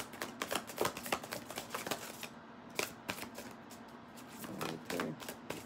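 Tarot cards being shuffled and pulled for a Pisces reading, heard as a close run of quick papery riffles and soft flicks with short pauses, card snaps louder toward the end, with no talking.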